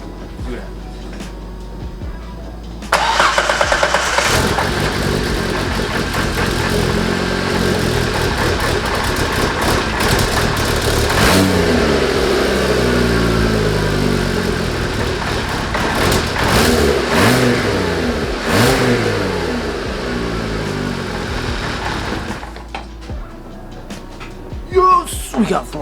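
An Exocet kit car engine revs up repeatedly as the throttle pedal is worked, loud and close, rising and falling over a steady idle, with someone talking at moments.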